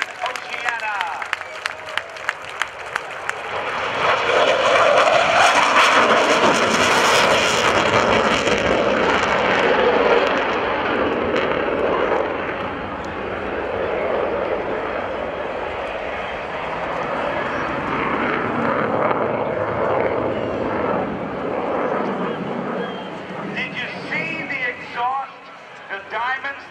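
An F/A-18F Super Hornet jet at the NAS Oceana airshow, rising to a loud sustained engine roar as it makes a touch and go and climbs away, with a commentator talking and crowd noise underneath.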